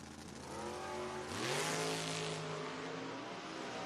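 Drag race cars, among them a 2000 Camaro, rev hard and accelerate at a footbrake bracket race, a rising engine roar swelling close and then easing off, with no talk.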